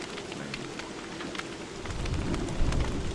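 Rain patters steadily in the video game Don't Starve while a low rumble of thunder swells in the second half, no voices present.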